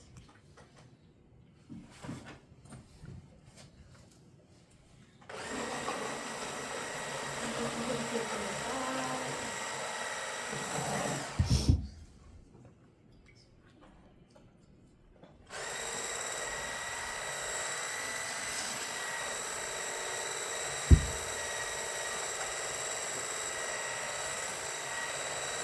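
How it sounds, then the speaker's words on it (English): A brand-new hand blender whirs loudly while mixing henna paste, running in two long bursts separated by a quiet pause, with knocks and handling noise around the starts. "I'm just putting the hand blender in there and starting it, it's gonna be loud, sorry."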